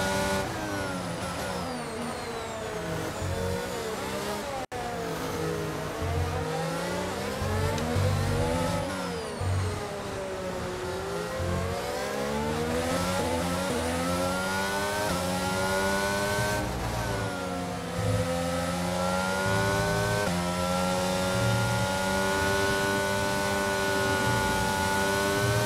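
Formula 1 cars in the racing game F1 22 at the Mexico Grand Prix scream past in a continuous high-revving engine whine, pitch rising and falling through gear changes and corners, several cars close together and loud throughout.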